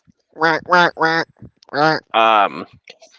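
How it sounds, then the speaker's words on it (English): A cartoonish duck quack sound effect, a quick run of five loud, nasal honking quacks with short gaps between them, close and clear, ending in a softer trailing note. "Give me the quack."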